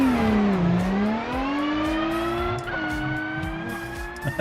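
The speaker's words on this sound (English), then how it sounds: "Car is so loud." A car in BeamNG, running the RLS career overhaul mod, drones with a loud, tonal engine note that dips and then climbs steadily in pitch, holding close and continuous throughout.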